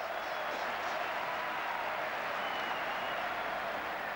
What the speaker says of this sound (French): Le public très sportif applaudit également les actions françaises.